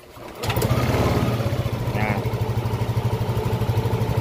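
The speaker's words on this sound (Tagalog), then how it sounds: "Tapos start natin yung motor." A Yamaha Aerox 155 scooter with an idle problem cranks and starts, then settles into a steady, close, pulsing low idle. Someone speaks briefly over it.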